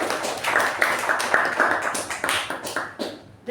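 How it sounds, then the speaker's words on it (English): An audience at a Toastmasters club meeting applauds the club president. The clapping is a dense, steady patter from a roomful of hands that fades slightly toward the end. "So please give a huge round of applause to our president."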